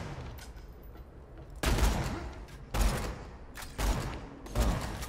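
Gunfire in the video game Borderlands 2, aimed at a Volatile Crystalisk: four loud, sharp bursts of shots at roughly one-second intervals, each with a trailing rumble, close and prominent.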